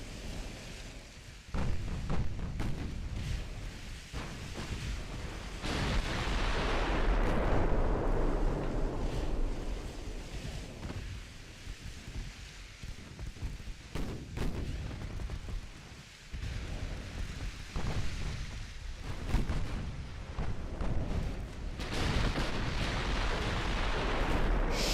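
Naval battleship gunfire in Ultimate Admiral Dreadnoughts, deep booming salvos rolling out into long rumbling decays, with repeated sharper cracks between, loud and sustained.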